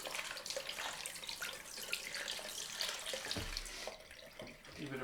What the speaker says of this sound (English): Just rinse off the razor.